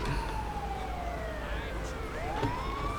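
Ambulance siren in the GTA V video game, a loud wailing tone sweeping down and back up, heard close over steady traffic noise.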